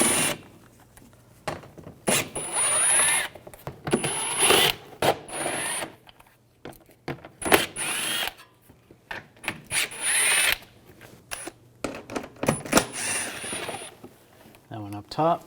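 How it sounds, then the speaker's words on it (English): Ratchet with an 8mm socket backing out headlight screws on a 2006-2010 BMW 550i, heard as short clicking and mechanical bursts in separate spurts with quiet gaps, close up, with a voice talking at moments. "Use a 8mm socket."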